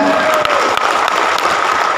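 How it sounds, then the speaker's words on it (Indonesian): A loud, dense burst of audience applause for Hector Lindung fills the room, steady throughout with a faint voice under the clapping. "Iya, tepuk tangan untuk Hector Lindung ya."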